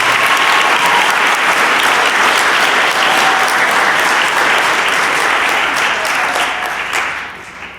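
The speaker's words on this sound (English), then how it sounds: "Give him a round of applause." A full, loud round of applause fills a middle school eighth grade promotion ceremony, thick and sustained for about seven seconds before tapering off.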